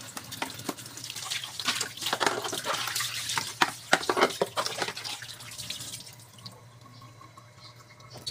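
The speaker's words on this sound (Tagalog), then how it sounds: "Hugasan na natin yung ating baon." Tap water running over a lunchbox as it is washed: an uneven splashing and gurgling stream with drips and clatter for several seconds, close by, then fading to a quieter trickle near the end.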